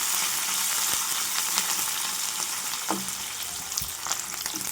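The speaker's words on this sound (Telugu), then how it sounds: "కరివేపాకు వేస్తున్నాను. వేసి అటు ఇటు కొంచెం తిప్పుకొని ఫ్రై చేసుకోవాలి." Curry leaves frying in hot oil in a pan for a raw coconut and cauliflower fry, a loud continuous close sizzle with a few soft stirring knocks.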